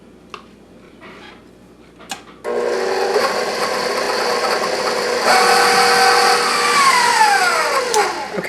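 Electric mixer beating gingerbread cookie dough after an egg is added, starting with a few light clicks, then whirring steadily and loudly, its motor pitch rising then sliding down near the end.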